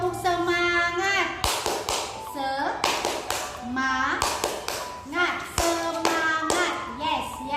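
A class of young children does a rhythmic spirit clap at the start of a school lesson, with quick patterned claps and taps in a steady beat, mixed with children chanting loudly together close by.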